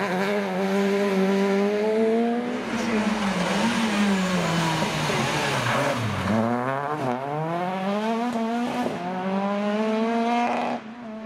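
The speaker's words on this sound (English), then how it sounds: "Scott Macbeth's new C2 was initially fending off the 208 of Marty Gallagher and the Corsa of Angus Laurie" Rally cars race on forest stages, a Citroen C2, Peugeot 208 and Vauxhall Corsa, with engines loud and close, revving hard and changing gear repeatedly as they accelerate and pass.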